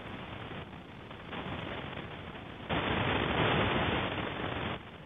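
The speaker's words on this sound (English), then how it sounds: "That loud hiss is the telescope passing over a strong radio signal in the sky." Loud broadband hiss from an early radio telescope sweeping across a strong radio source in the sky, steady throughout and swelling noticeably louder partway through before easing back down.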